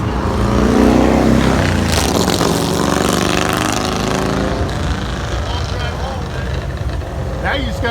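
A classic car with a 455 engine pulls away from a car show on Garden Grove's historic Main Street, its steady engine rumble fading slightly as people chat loudly nearby.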